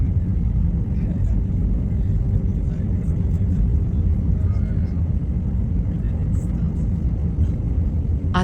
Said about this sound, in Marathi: इथे पोहोचल्यावर विमानाचा थोडा आवाज आणि थोडी हालचाल वाटते।